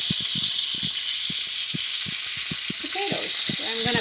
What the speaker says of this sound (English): You like to sear the first side for anywhere between 3 and 5 minutes is good.